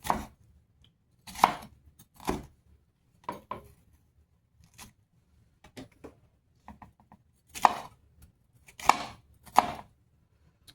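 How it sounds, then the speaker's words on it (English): A knife chops a red pepper on a cutting board in a home kitchen, with sharp, irregular cuts and scattered pauses, close and fairly loud without any talking. "I'm going to cut up a red pepper, just for color."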